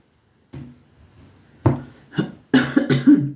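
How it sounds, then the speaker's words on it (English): One person coughs several times up close and loudly. The coughs come in a short, uneven burst and grow stronger toward the end. "Got a little bit of a cough today."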